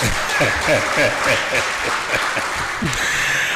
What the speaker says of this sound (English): If this was AI, then it deserves a louder round of applause.